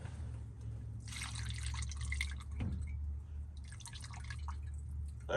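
A mix of transmission fluid and acetone drips and trickles into a cylinder of a 1949 Ford F-5 truck's flathead V8. Faint, close liquid patter comes in two bursts with a quiet pause between them.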